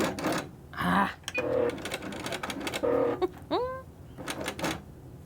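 A sewing machine runs in several short, close bursts while stitching a quarter-inch seam on half-square triangle quilt pieces, with brief pauses and small clicks between runs.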